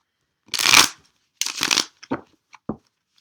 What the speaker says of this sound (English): I'm just going to do a couple more shuffles